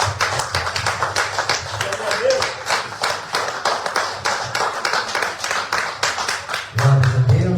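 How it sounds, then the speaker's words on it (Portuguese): A church congregation claps in a steady rhythm, dense and loud throughout, with voices and singing mixed in beneath the clapping. "mais as palmas, mais uma vez é para o Senhor Jesus"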